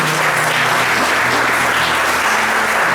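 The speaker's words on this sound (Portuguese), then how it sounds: "Vamos aplaudir a palavra do Senhor" A church congregation applauds after a Bible reading during a sermon, a full, continuous roar of clapping from many people, steady and fairly loud from start to finish.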